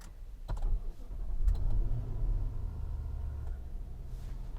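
A 2022 Infiniti QX80 with a 5.6-liter V8 starting up from inside the cabin: a few clicks and a short crank, then the engine catches and settles into a steady low idle.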